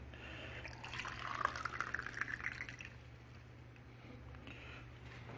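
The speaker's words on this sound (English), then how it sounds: "So let's put some water in there." Purified water from a filter poured into a white ultrasonic aromatherapy essential oil diffuser, a soft trickling splash for about two seconds over a steady low hum, then fading to quiet.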